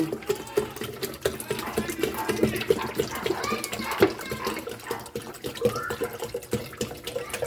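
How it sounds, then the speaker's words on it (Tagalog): Water running steadily into a small bucket, a continuous splashing pour with bubbling under a voice talking now and then. "Dagdagan natin ng tubig."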